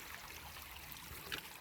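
A small feeder creek flows through woodland off the Salt River in Missouri, a soft, steady trickle of running water that stays faint and even throughout, with no voices.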